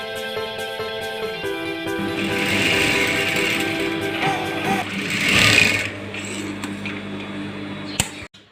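A sewing machine runs steadily while stitching a baby frock, a close, continuous mechanical whir that holds through most of the stretch, swells briefly, then stops with a sharp click at the end.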